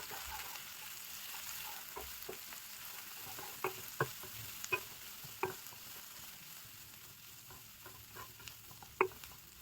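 Cauliflower and green chilli fry in a pan with a steady, soft sizzle, broken by occasional clicks and scrapes from stirring.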